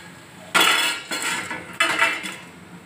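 Freshly roasted ingredients for sundakkai kuzhambu are tipped from a pan onto a plate in two loud, close bursts of rattling and scraping, each trailing off, with no speech.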